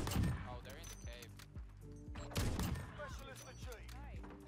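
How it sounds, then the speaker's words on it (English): Bursts of gunfire from the video game Modern Warfare crack out in short volleys, the loudest near the start and again midway, while a player talks over them throughout. "Shots coming back, boys."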